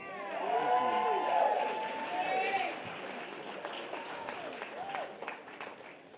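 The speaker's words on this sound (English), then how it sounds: "A round of applause for the band." Audience applause for a band at a Friday night Shabbat service, a steady wash of clapping from a crowd, loud at first and tapering slightly, with voices and singing mixed in throughout.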